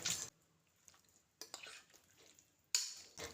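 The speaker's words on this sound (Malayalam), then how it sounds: "ഇനി ഇതെല്ലാം കൂടെ ചേർത്ത് നന്നായിട്ട് ഇളക്കി യോജിപ്പിക്കാം" Cucumber, corn and other salad vegetables being stirred together with dressing in a bowl, a few sharp clinks and scrapes of a spoon against the bowl separated by quiet pauses, close and fairly soft.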